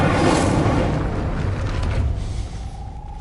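Incendio fire spell being cast in the Hogwarts Legacy video game: a loud, dense whooshing burst that erupts at once and roars steadily for about three seconds before thinning slightly, with no talk over it.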